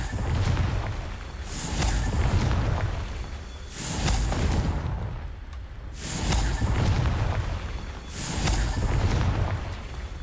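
Spell explosions in the Hogwarts Legacy video game, three long, loud booming rumbles that swell and fade in regular waves about four seconds apart, with no talking.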